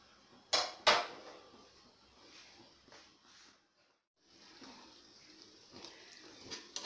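A lid goes onto a pot of chicken biryani masala: two sharp metallic clanks close together near the start, followed by quiet kitchen rustling, a brief pause and a faint tap at the end.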